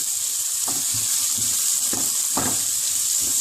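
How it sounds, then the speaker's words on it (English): Butter and vegetable oil sizzle in a hot pan in a home kitchen, a loud steady crackling hiss with brief bursts as food is stirred or shifted, no talking. "So you can hear that sizzling up right there."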